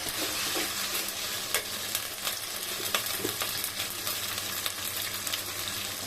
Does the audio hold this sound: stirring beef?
yes